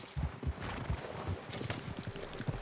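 Horse hooves clip-clop in a steady walking rhythm in the video game Red Dead Redemption 2, moderately close, with a faint ambient backdrop and no talking.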